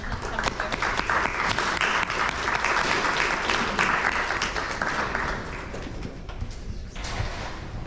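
An audience at a college debate event gives a long, sustained round of applause for a speaker, dense clapping filling the hall before easing slightly near the end.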